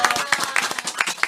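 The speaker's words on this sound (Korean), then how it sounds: "우리 김대근님 박수 한번 주세요." Studio audience clapping to welcome a guest onto a Korean talk show stage, a short burst of uneven, close hand claps.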